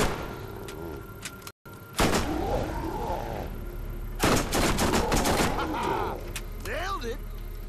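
Rapid bursts of automatic fire from the Hellfire gun in the Borderlands video game, sounding loud and close amid game noise, with someone talking over the shooting.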